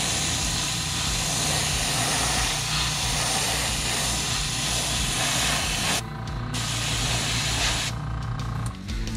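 Airbrush spraying white base coat paint onto a 2.5 square bill crankbait lure, a steady loud hiss that runs almost the whole time with only brief dips near the end.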